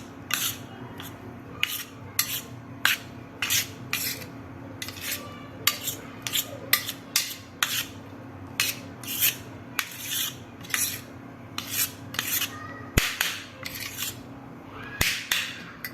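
A metal spoon scrapes khichdi cooked with peanuts and salt out of a pot, giving repeated sharp rasping strokes in an irregular rhythm over about sixteen seconds, close and moderately loud, with no talking.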